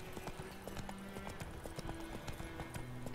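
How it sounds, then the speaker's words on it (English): A horse in The Witcher 3 video game gallops with a steady fast clip-clop of hooves, close and continuous, over a muted game backdrop with faint tonal layers. "If I press twice, I'm galloping."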